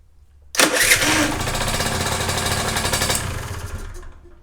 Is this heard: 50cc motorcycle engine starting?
yes